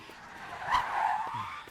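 A car pulls up nearby, its tires squealing briefly in a short skid as it comes to a stop, the sound rising and fading over under two seconds.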